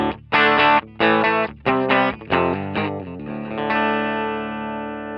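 Electric guitar tuned to drop D, played through a Boss HM-2 Heavy Metal distortion pedal: a run of thick, buzzing chugs and chords, separated by brief stops, that ends on one long ringing chord fading out.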